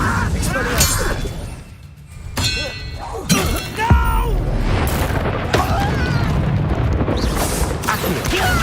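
Spell-casting effects from the Hogwarts Legacy video game come as a run of clangs, bursts and shattering impacts with bright sweeping tones. They play over a dense game soundscape, with a voice calling out between the casts.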